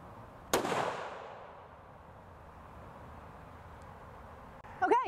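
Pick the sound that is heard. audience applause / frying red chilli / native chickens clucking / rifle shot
rifle shot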